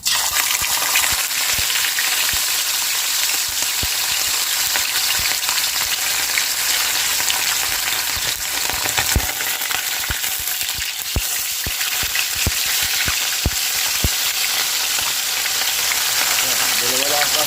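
Fish sizzle and crackle in hot cooking oil, a dense, steady frying hiss that runs throughout, broken by sharp pops and spits, with faint speech now and then.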